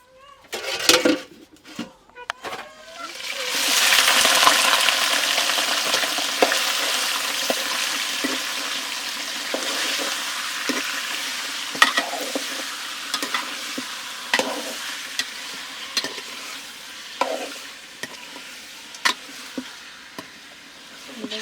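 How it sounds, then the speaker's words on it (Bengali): Meat being stirred with turmeric in a pot over a clay stove, a steady sizzle with repeated scraping knocks of the spoon against the pot, close and fairly loud throughout after a few sharp clinks at the start. "হলুদ দিয়ে ভালো করে মিক্স করে নিচ্ছে মাংসগুলা"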